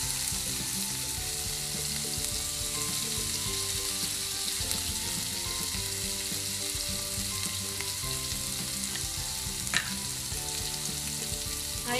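Vegetables with green chillies and salt fry in a pan, giving a steady, even sizzle with soft crackles and occasional stirring that carries on alone throughout.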